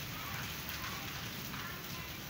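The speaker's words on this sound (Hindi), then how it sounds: "बारिश अंदर तक आ गई है, अब बारिश का रुख चेंज हो गया।" Steady rain pours down outdoors, a dense, even hiss of drops on surfaces, continuous and close throughout.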